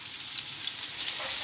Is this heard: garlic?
yes